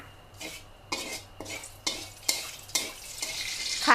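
Garlic frying in hot oil for Thai galangal chili paste is stirred and scooped with a metal utensil, giving repeated scraping clinks about every half second over a steady bubbling sizzle.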